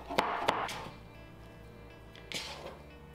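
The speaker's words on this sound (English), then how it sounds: "I'm just gonna rough chop a green onion" A knife rough-chops a green onion on a cutting board, giving a few sharp, close thuds early on and another pair a couple of seconds later, with quiet pauses between them.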